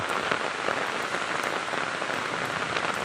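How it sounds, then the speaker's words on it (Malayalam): Steady, dense rain pattering on a hard surface, a continuous even hiss of many drops with no voices. "അതേന്നു മഴയാണ് ഇവിടെ"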